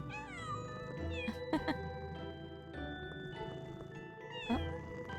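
Cats in the Pocket Mirror video game meowing several times in drawn-out, rising cries over soft game music, with a few sharp clicks between calls.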